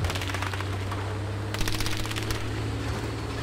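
Sustained gunfire from an aircraft strafing overhead in the World War II shooter Battlefield V, heard as a dense, steady rattle over a low engine drone, with a heavier burst of shots in the middle of the stretch.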